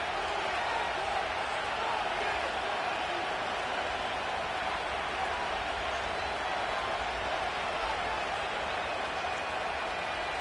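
A dense, steady roar from a packed football stadium crowd rising as the home side lines up a two-point try for the win, loud and unbroken throughout without a clear peak.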